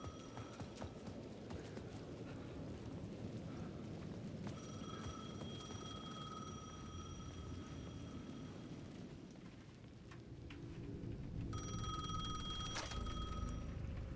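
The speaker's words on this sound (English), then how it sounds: "The payphone at the edge of the plaza was ringing again." A payphone rings at the edge of a plaza in the video game Alan Wake II, bright ringing tones repeating in bursts over a dense rumbling, clattering ambience, fairly faint and without talk.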